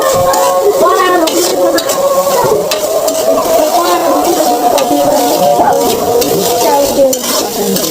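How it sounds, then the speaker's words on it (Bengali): Spices and salt being stirred in a cooking pot for pulao, a steady loud scraping and sizzling that runs continuously with no pauses. "পরিমাণ মতো লবণ দেওয়ার পর ভালোভাবে নেড়ে নেব"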